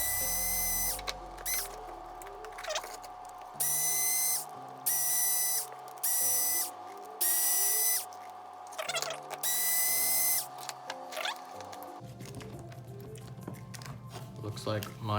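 Power screwdriver backing out chassis screws on a Traxxas Slash 4x4 RC car, heard as several short whirring bursts separated by pauses over a steady background hum, with a voice talking throughout.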